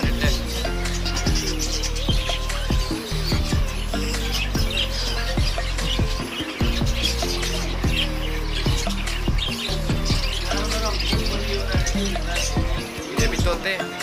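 Parrots and other caged birds chirping and calling continuously at the busy Lalukhet bird market, dense overlapping calls over a steady low hum, fairly loud and close.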